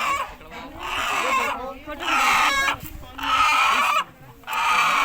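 An all-black rooster clucks and calls in repeated loud bursts close by, while people talk over it.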